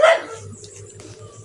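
A mixed-breed Filipino street dog (askal) guarding a house gives one sharp, loud bark close by at the start, followed by a quieter stretch of low background noise.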